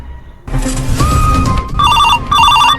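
A phone ringtone chirps loudly in repeated electronic trills, starting after a moment of quiet and cycling in two clear bursts.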